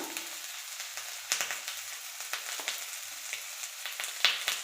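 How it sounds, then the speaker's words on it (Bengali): Chopped tomato, salt and turmeric being stirred in a frying pan, a steady close sizzle broken by repeated scraping strokes of the spoon across the pan. "এভাবে নেড়ে নেব।"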